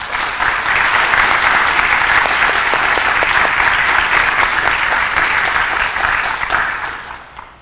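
An adult education graduation audience breaks into strong, sustained applause, many hands clapping steadily and loudly for several seconds before dying away at the end.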